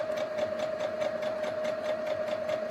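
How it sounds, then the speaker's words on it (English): Domestic sewing machine running steadily at close range, a continuous whirring hum with a rapid, even stitching rhythm and no talk over it. "Is this machine quiet enough for you guys?"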